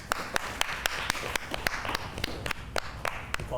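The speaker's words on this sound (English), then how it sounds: "Let's give him a round of applause." Sparse, evenly spaced claps ring out from a small audience at a Thanksgiving variety show, crowning a pumpkin contest winner; about a dozen sharp, separate hand claps at close range, with no voices over them.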